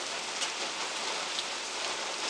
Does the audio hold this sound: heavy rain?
yes